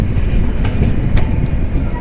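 754 SilkCity Express, a Bangladeshi intercity train between Rajshahi and Dhaka, rumbles steadily along the rails with a loud, continuous low roar and faint recurring clicks of the wheels over track joints, with no voices.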